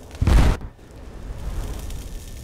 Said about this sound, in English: I think the explosion knocked us out.